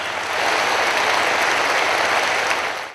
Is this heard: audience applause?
yes